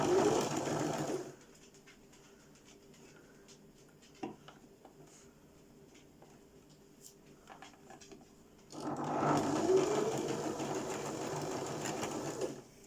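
Sewing machine stitching a fabric face mask with elastic encased in the seams, a close whirring run at the start, a quieter pause with small clicks and handling noises, then the motor buzzing again near the end.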